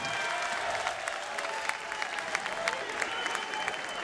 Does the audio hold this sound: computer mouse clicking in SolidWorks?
no